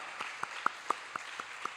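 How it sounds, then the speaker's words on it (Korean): Clapping during a Sunday church service: a sparse run of about seven sharp, evenly spaced claps in a quick steady rhythm, fairly close and moderately loud, with a quiet room behind. "박수로 좀 격려하도록 하겠습니다"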